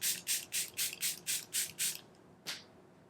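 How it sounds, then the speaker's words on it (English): Charlotte Tilbury Airbrush setting spray is pumped eight times in a quick, even rhythm of close, soft misty bursts, then one more spritz after a short pause. "for a little bit of setting spray, I'll just use my Charlotte Tilbury Airbrush."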